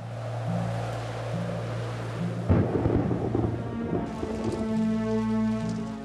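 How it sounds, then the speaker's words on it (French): A cold night outdoors brings steady rain with a sudden loud thunder crack partway through that rumbles on, while a low droning tone holds underneath. "Il pleut, il fait froid,"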